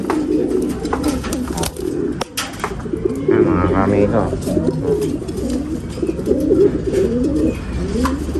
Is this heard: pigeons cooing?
yes